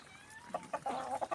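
A large chicken on a Thai farm clucks in several short, close calls during feeding, faint overall and without voices.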